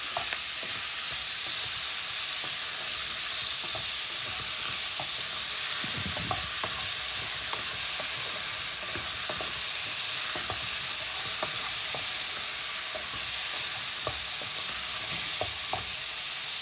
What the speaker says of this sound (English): Then I'll be adding the mushroom just to fry it to have a good taste.